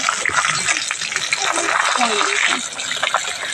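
Pieces of a large Rohu fish fry in oil for kalia, a bubbling, crackling sizzle heard close up beneath a voice speaking.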